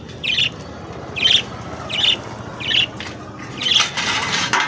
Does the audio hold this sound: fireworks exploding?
no